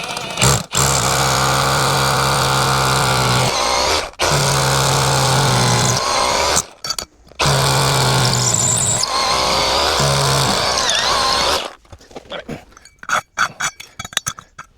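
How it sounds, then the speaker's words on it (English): Loud hammer drill grinding anchor holes into freshly poured concrete in three long bursts separated by short pauses, followed by scattered clinks and scraping of the bit. "always drill all the way through the concrete into the dirt"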